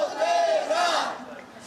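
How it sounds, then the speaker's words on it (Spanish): A crowd protesting at a street event boos the Spanish Transport minister, a loud swelling group jeer of voices that fades slightly toward the end. "Este grupo de personas ha recibido así, con abucheos, a la ministra de Transporte."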